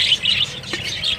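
Budgerigars in a breeding colony chirp in quick, high twittering bursts, close and continuous over a short moment.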